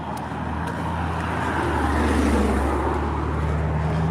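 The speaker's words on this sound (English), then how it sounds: "This is the Mustang coming, I can hear it." A Ford Mustang approaching on a road, heard from outdoors during a walk: a steady, building engine rumble and tire roar that grows louder over several seconds, with no talking.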